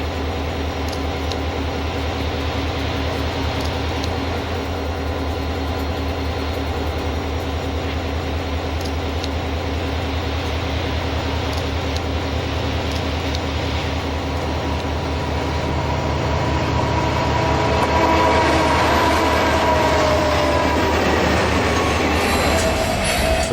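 A Santa Fe freight train led by Kodachrome-painted locomotives rolls into a siding, producing a loud continuous rumble with a steady diesel hum and rail noise that grows slightly heavier toward the end.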